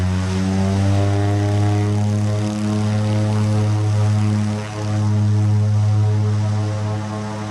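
A propeller airplane drones steadily and loudly close by at a small airstrip in Alaska, its engine note holding a constant pitch with slight swells throughout.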